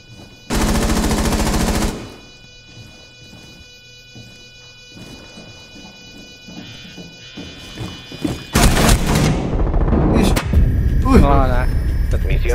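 Rainbow Six Siege gunfire erupts in a loud sustained automatic burst, followed by quieter clatter and several more shots and rapid volleys later, with players talking throughout.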